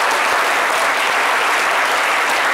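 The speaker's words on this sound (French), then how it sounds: "nous vous apportons des applaudissements porte-bonheur pour que vos rêves se réalisent" A crowd applauds warmly, dense clapping sustained throughout at full volume.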